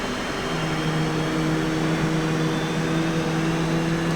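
The right engine of an F/A-18C Hornet spools up at idle with a loud, continuous turbine whine and a steady tonal hum that rises and settles, no voices over it.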